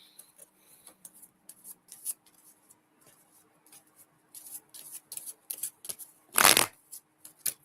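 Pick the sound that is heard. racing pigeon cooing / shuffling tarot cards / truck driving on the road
shuffling tarot cards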